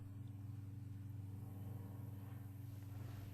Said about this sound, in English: There's a plane flying low over the house.